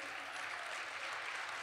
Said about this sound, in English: please feel free here to applaud each candidate, Ashley Church with Volkswagen of Marion,